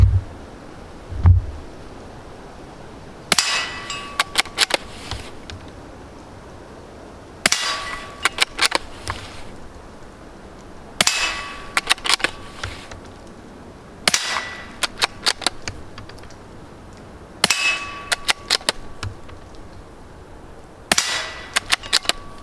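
A .22 bolt action rifle fires repeated shots at a steel target, with sharp cracks and metallic pings arriving at regular intervals of a few seconds each, mixed with bolt-cycling clicks between shots.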